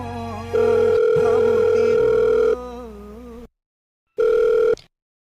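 A telephone ringback tone sounds while a call is placed, with a loud steady electronic tone lasting about two seconds, a pause, then a shorter second burst.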